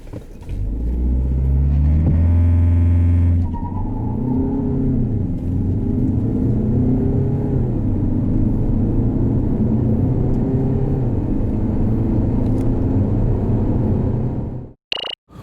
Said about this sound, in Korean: 이번 모델 과연 얼마나 성능이 개선됐는지 발진 가속 성능부터 한번 볼까요?